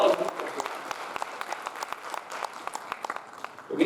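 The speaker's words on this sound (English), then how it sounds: "Now give all of you a round of applause" Audience applause at an international wellness forum: a crowd clapping with sharp individual claps standing out, steady and moderately loud for a few seconds, with a voice briefly audible at the start and end.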